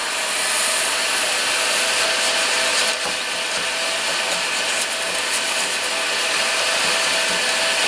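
Old decals being stripped off a Congo pinball machine cabinet, a loud continuous hiss and rubbing scrape with a steady blowing roar underneath, close and unbroken, with no voices.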